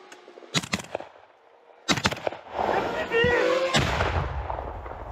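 Artillery fires in combat footage from the war in Ukraine, with FPV drones in use. Sharp booms land in bursts near the start, then a long loud rumble follows, with voices shouting in the mix.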